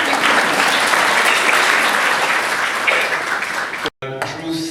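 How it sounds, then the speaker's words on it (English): School audience clapping after a storytelling performance, loud sustained applause from many hands that drops out abruptly near the end before a voice begins. "Nice clapping."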